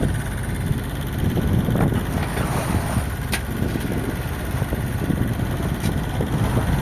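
A sailboat sailing solo between islands rises and drops through big waves in strong wind, with loud, rough wind buffeting and rushing water under a low engine-like drone, no speech.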